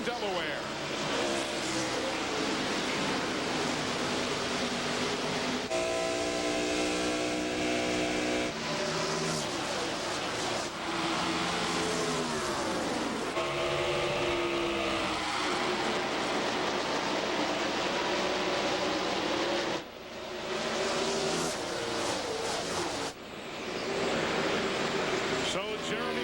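NASCAR Winston Cup stock cars race at Dover Downs International Speedway in Delaware, roaring engines sweeping past in loud, rising and falling passes with a dense pack drone, while commentators talk over the racing throughout.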